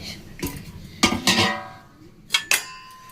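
A lid lifted off a cooking pot of kofta curry, giving a few bright metallic clinks and scrapes spread over a few seconds, close and fairly quiet.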